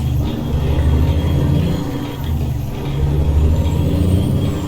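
Truck engine in American Truck Simulator, a loud steady low rumble with slight swells in pitch as it drives, continuous and alone without talk.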